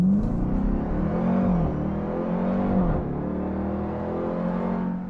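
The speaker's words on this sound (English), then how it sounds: "So here we go in normal mode." A 710-horsepower Dodge Durango Hellcat accelerates hard in normal mode, its engine a loud, sustained roar from inside the cabin that rises in pitch, dips near the middle as it shifts, then climbs again with a brief slip of the wheels.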